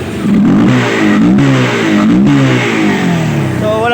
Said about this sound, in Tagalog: so papandarin natin yung motor kung magpapalya ba talaga